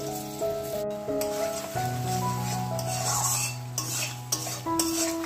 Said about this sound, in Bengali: দেখো মশলা কষানো চলছে, হয়ে গেছে, তেল ছেড়ে দিয়েছে একদম।